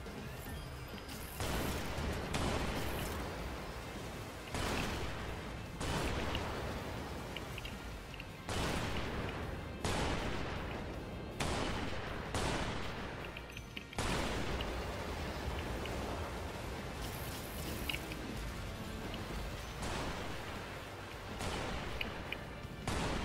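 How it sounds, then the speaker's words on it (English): Weapons fire in the Strike Vector EX trophy hunt in the Syndicate Stadium, a steady stream of loud, dense shots and blasts broken by brief pauses, heavy and continuous across the stretch. "I'm just gonna burn through my shots so I can reload"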